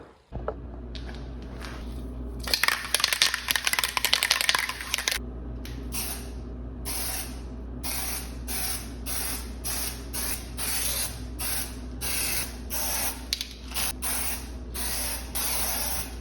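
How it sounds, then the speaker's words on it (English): A spray can lays sealer coats onto a thrifted wooden dresser in a long hiss, then a rapid series of short, regular bursts, near and clear over a low background hum. "I sealed the entire thing with 4 coats of sealer, so that way it will not get damaged in the future"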